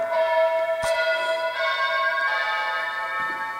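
A house doorbell rings once, its bright tone lingering and slowly fading, with a soft knock partway through; no voices.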